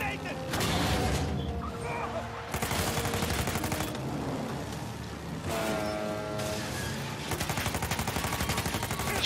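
Rapid bursts of gunfire blaze through an Uncharted 4 car chase, repeated automatic volleys and booming shots loud and continuous with roaring action behind, while players talk over the firefight.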